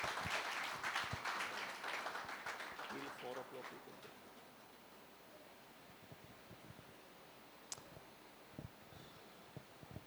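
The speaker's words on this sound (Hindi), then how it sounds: "ताली बजाई के हमने स्वागत करिबा" A church congregation at a youth conference in Mumbai claps to welcome a pastor to the stage, a dense burst of applause that fades over several seconds into quiet room noise with a few stray claps.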